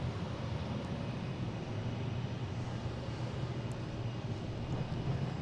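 A small Nantucket Airlines plane takes off from runway 4 left at Boston Logan airport, a steady broadband engine roar with a low rumble, constant and fairly distant, with no voices.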